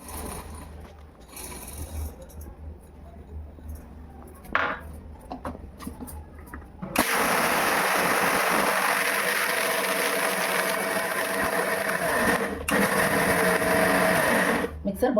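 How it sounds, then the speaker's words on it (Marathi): A kitchen mixer grinder grinds sabudana (sago) into a coarse flour for sweet potato vada. Talk and small clatters come first, then a loud, steady high-pitched whirring motor runs for about eight seconds, with a brief dip partway through. "आपण साबुदाणे बारीक करून घेऊ"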